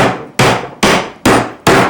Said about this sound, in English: and drive a nail in